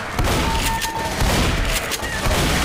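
Gunfire in the zombie shooter game Left 4 Dead comes as several quick, sharp shots in a row over a dense, noisy game soundscape, with no voices heard.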